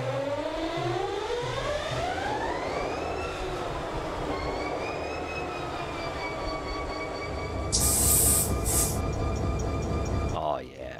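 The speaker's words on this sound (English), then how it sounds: "I can just hit auto start all locomotives." Locomotives in the Train Simulator World by Run8 video game start up together, rising into a loud droning engine whine with layered tones, and a burst of hissing air comes near the end.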